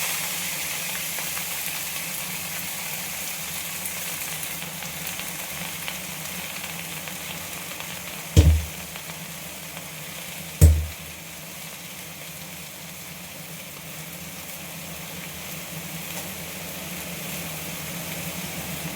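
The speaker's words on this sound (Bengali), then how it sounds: "এইবার আমি এই তেলের মধ্যে এই ঘ্যাটকোল শাকটা দিয়ে দেবো।" Ghetkol greens fry in hot oil with a steady, even sizzle throughout, broken by two sharp knocks partway through, with no talk.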